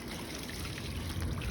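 Water runs steadily from a garden hose pushed up inside a water softener tank that has been laid on its side, a continuous close rushing trickle with no pauses.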